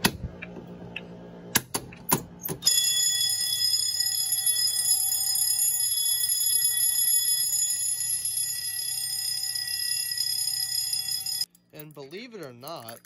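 A Mircom fire alarm system sounds during a test, a loud continuous electronic ringing tone that holds steady for about nine seconds after a few clicks, then cuts off abruptly, followed by a warbling tone.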